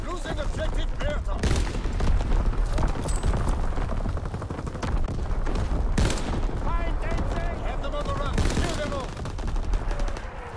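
Call of Duty 1944 match on the Shipment map in domination mode: dense rapid gunfire and crackling explosions from an artillery barrage, continuous and loud, with game announcer voice lines mixed in.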